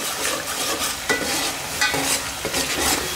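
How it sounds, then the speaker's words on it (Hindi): Spices for a mutton gravy roast in a pan under steady stirring, with close, continuous sizzling and repeated scraping strokes and no voices. "दो से तीन मिनट के लिए अच्छी तरह से ये मसाले को हम भून लेते हैं।"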